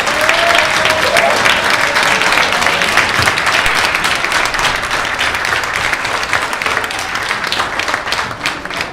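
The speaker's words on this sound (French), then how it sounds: "faire un tonnerre d'applaudissements" A conference crowd at a Toulouse pop-culture convention applauds warmly to welcome guests on stage, dense sustained clapping from many hands with a brief voice or cheer near the start, loud and continuous throughout.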